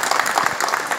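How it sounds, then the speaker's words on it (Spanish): Brief burst of audience applause at a tourism students' dining event, dense clapping filling the moment alone with no talk over it. "le sigo dando un aplauso"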